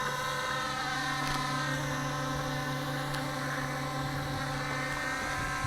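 A Zerotech Dobby selfie drone lands, its small propellers giving a steady, close, high-pitched whine with tonal harmonics that holds evenly for several seconds without speech.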